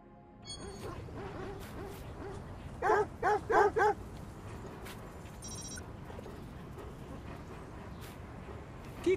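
A dog in the video game Watch Dogs 2 barks four quick times in a tight burst, mid-distance over a low game ambience, with a short electronic chime nearby.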